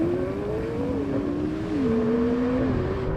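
A drag race car launches off the line, its engine howling loud and close as the pitch steps through a few shifts, with no talking.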